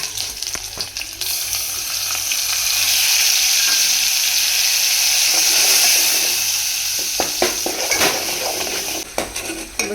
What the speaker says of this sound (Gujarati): જોરદાર વઘાર